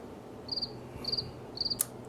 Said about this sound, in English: Nothing but cricket sounds.